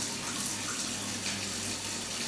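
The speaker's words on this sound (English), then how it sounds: "So we're going to shut this faucet off just at exactly 15 minutes." Steady, loud water running from an indoor faucet in a house, a continuous even rush with no pauses or talking.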